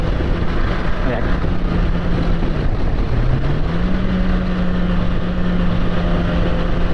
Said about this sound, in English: Engine brake lang.